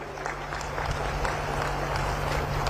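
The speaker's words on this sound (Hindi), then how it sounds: "एक बार हाथ उठाकर जोर से ताली बजाइए भाइयों बहनों" A large crowd at the Bastar Pandum cultural festival applauding steadily, a dense and sustained wash of clapping heard from a distance over a low hum.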